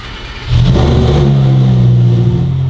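Engine of an STO build car catching about half a second in, then holding a loud, steady rev with a deep low rumble, close and with no voices.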